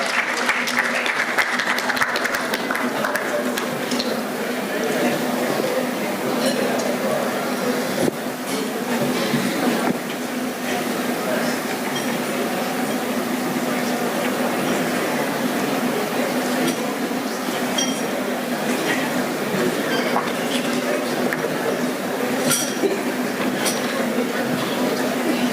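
Sustained clapping fills a hall during an annual jurists' forum dinner as a guest is welcomed, broad and continuous with faint clatter and a low hum in the room, and some murmured voices underneath.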